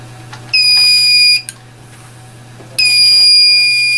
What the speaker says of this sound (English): when you plug it in, it is going to emit an alarm